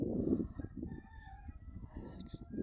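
Chickens cluck softly and intermittently at moderate distance, with a faint higher call near the end.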